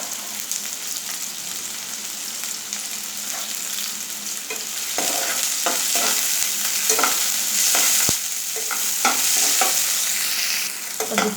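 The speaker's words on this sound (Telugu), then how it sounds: "దీంట్లో ఉల్లిగడ్డలు వేయించుదాం." Sliced onions frying in hot oil for a Rayalaseema egg dum biryani, a loud, steady sizzle close by, with intermittent stirring scrapes and clicks and no voices.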